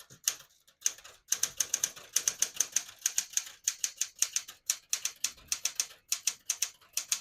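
Rapid, crisp clacking of a 1973 Smith-Corona Galaxie 12 manual portable typewriter's keys, struck in quick uneven runs with short pauses, close and clear.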